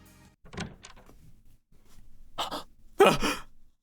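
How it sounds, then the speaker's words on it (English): A door opens in the visual novel game Steins;Gate, heard as several short scraping and rattling bursts that build to a louder swoosh near the end, close and with no talk over it. "I hear the door open"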